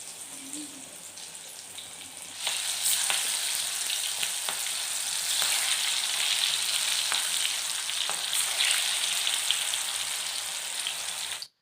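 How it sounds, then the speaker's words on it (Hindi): Steady crackling sizzle of spinach fritters frying in hot oil, close and continuous, with occasional sharper pops throughout. "अब आप इसको तेल में जो है धीरे धीरे फ्राई कर लीजिए"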